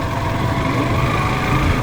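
Trawler boat engines on a river drone in a loud, steady, low rumble with a constant throbbing texture and no break or voices.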